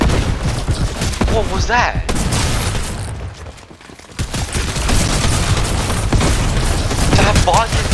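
Gunfire rattles in rapid volleys during Horde Rush gameplay, dense and loud, dipping briefly before resuming, while a player speaks over the shooting.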